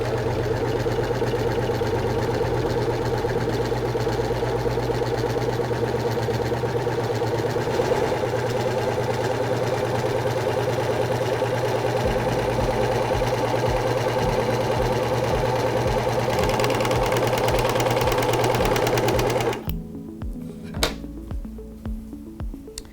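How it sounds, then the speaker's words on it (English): A SINGER S0230 Making the Cut serger runs steadily, sewing a wide three-thread overlock stitch, its fast mechanical whir and motor hum continuous and close for most of the clip before stopping abruptly, leaving quiet room tone with a few faint clicks. "Place your fabric under the presser foot and lower the presser foot and start sewing."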